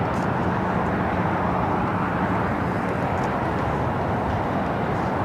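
Lufthansa Boeing 747 lining up on runway 25 left at LAX, a steady, loud broadband roar of engines that holds unchanged from start to finish with no voices.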